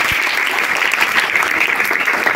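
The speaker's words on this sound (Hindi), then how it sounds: "एक बार और जोर से तालियां बजा" An audience at a paramedical institute's diploma convocation ceremony claps loudly and continuously, a thick, even roar of hands close by with no break.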